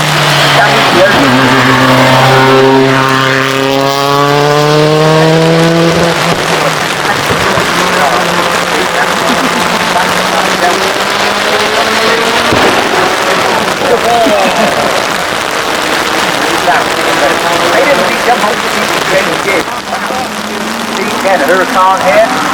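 Yellow Lamborghini Huracan accelerating up the Shelsley Walsh hill climb during the Gumball 3000, engine revving hard through rising gear sweeps with crackling exhaust pops and bangs, loud and passing close, crowd noise around.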